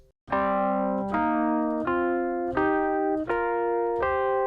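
A sequence of six sustained piano notes, each struck about every three-quarters of a second, stepping down and up in a repeating pattern of wide intervals.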